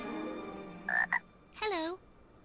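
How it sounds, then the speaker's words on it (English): Frog croaking in the Casper the Friendly Ghost PS2 video game: a quiet musical backdrop, then two distinct croaks, the first a short double call and the second a longer warbling one. "I've never met a talking frog before."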